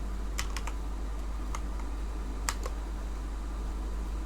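A command typed on a computer keyboard, a few light scattered keystrokes in short bursts over a steady low fan hum, quiet and close.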